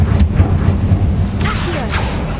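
A Confringo blasting spell explodes in the Hogwarts Legacy video game, giving two brief, loud bursts over a rumbling low background.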